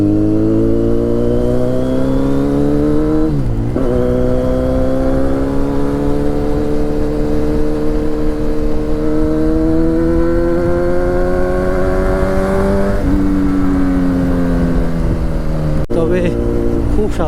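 A Kawasaki Z900 superbike accelerates hard on the road, its engine note climbing steadily through the gears with brief dips at each shift, loud and close throughout with constant wind rush.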